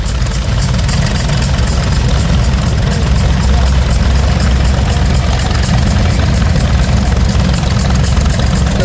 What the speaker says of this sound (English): Just coming through the gate, we have a John Deere D gas tractor, WDM, 1938 model, 30 horsepower at the drawbar